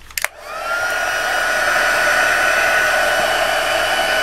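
A handheld craft heat tool blows continuously right by the microphone after a couple of brief clicks, giving a loud steady whoosh with a faint whine.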